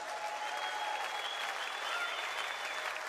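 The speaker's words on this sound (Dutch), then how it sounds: "Dus echt een applaus voor hem" A concert audience applauds a guitarist at a 2013 show, steady, dense clapping from a crowd, heard from a little distance with no pauses.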